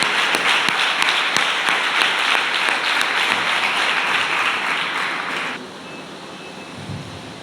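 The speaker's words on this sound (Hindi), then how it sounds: "आइए ताली बजाकर डॉक्टर जॉर्ज थॉमस के मंच पर स्वागत करें" An audience at a church gathering applauds to welcome a speaker to the stage, a dense, loud wash of clapping that fills the room and fades down near the end.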